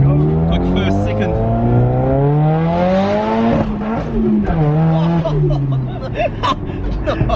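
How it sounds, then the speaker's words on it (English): A Nissan SR20-powered car with straight-pipe exhaust accelerates hard, its loud raspy engine note climbing through the revs, dropping at a gearshift and climbing again, with voices talking over it inside the car. "It is so loud with the straight pipes"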